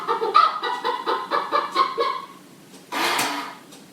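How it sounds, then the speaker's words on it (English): A cuckoo clock going off indoors gives a quick run of about ten rhythmic, bird-like chirping calls, fairly close and clear, followed by a short rustling burst and quiet. "that's our cuckoo clock again"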